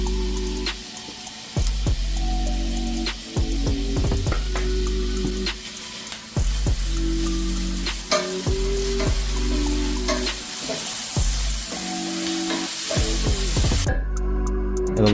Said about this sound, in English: Throw in your lobster pieces and saute for about 2 minutes